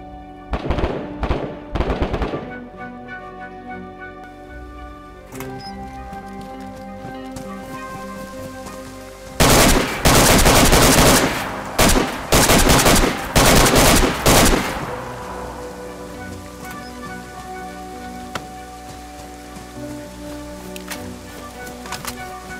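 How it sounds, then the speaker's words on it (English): Automatic rifle fire in DayZ PvP, a few close bursts at first, then a long loud stretch of rapid overlapping shots. Quieter intervals with softer distant pops come between the bursts, and no one talks. "someone's shooting over here now"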